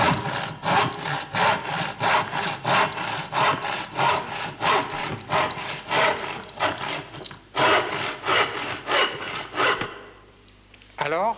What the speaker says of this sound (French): C'est la scie qui vient de couper Du bois.